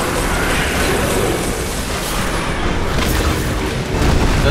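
A missile explosion in the Metroid video game in a frozen-world stage: a loud, continuous booming blast of wideband noise that roars steadily without a break, with a further surge near the end.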